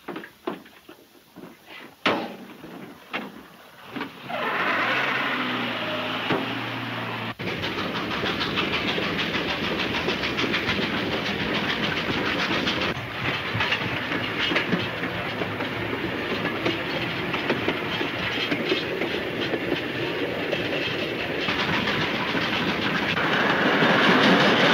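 A train in an old radio serial rumbles and clatters with a rhythmic clickety-clack, starting with scattered knocks and then swelling into a loud, steady roar that continues to the end.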